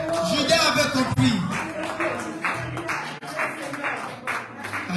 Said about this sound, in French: Pour la troisième fois, acclamons encore l'Éternel.